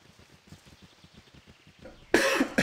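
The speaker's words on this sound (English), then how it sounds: "I should have muted the mic while I coughed" A man coughs and clears his throat close to a microphone during a Baldur's Gate 2 gaming stream, a run of soft rhythmic throat sounds ending in a sudden loud, harsh cough.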